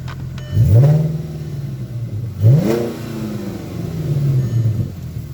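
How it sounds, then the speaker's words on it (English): A 2003 VW Passat W8 4Motion with a six-speed manual sends out two sharp, close revs from its exhaust. Each rises and falls quickly over a steady idle, and a softer swell of throttle follows near the end. "Kind of hear the exhaust again."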